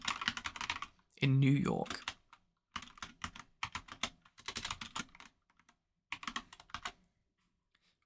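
A question is typed on a computer keyboard in several quick bursts of clicking keys with short pauses between them. A voice speaks briefly during one gap.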